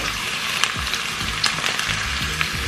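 Butter melts in a hot pan with a steady, close sizzling hiss and faint crackles and pops throughout, with no one speaking.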